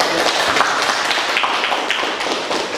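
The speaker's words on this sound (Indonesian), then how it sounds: "tepuk tangan" Students or an audience at the close of a school lesson break into steady applause, many overlapping claps forming a loud, continuous wash that lasts throughout.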